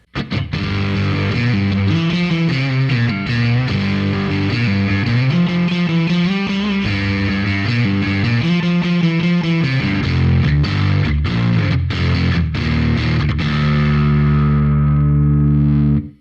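Gritty electric guitar through a Chris Ray Premium FX Member Hendrix fuzz pedal plays chords and riffs, loud and thick, ending on a sustained ringing chord that fades out.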